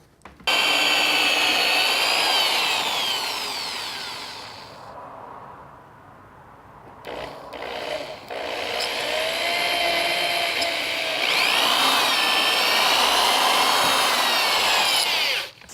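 A power drill whines loudly as it bores a pilot hole into wood for a deadbolt strike plate, pausing once midway before spinning up again for a long, steady run.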